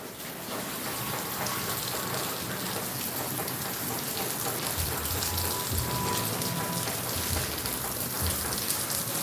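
Heavy rain pours steadily and loudly on surfaces, a dense continuous wash of drops that never lets up, with no voices over it.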